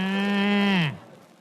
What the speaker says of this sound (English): When you hear the musical cow, it will be exactly 9 o'clock, Borden watch time.